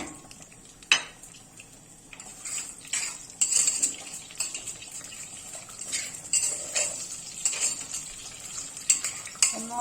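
A utensil scrapes and clinks against a pot as vermicelli is stirred until browned, giving irregular metallic taps and scrapes over a faint sizzle, close and with no talking.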